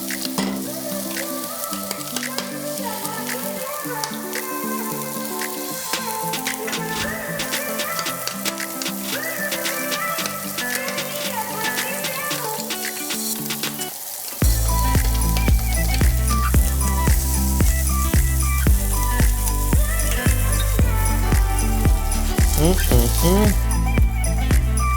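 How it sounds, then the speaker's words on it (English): A burger patty and an egg sizzle and crackle in a hot frying pan, a continuous loud frying hiss that grows fuller partway through, with background music playing throughout. "And then we're gonna put the egg in the pan."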